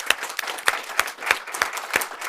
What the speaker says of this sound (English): and her department a big applause